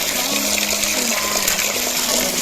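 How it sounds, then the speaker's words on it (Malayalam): Water pours steadily from a tap while fish is washed, a constant close rushing gush with no pauses. "ആദ്യം ഇയാളെ കൈ കഴുകുക, എന്നിട്ട് മീൻ കഴുകുക."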